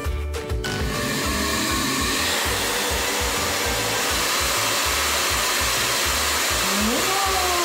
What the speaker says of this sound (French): tu peux poser la balle sur le sèche-cheveux? Oui. Et puis ensuite, tu l'actives